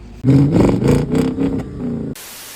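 A 2006 Audi Q7 Quattro 4.2 engine running on gas (LPG) revs loudly for a couple of seconds, rising and falling, then cuts to a quieter hiss.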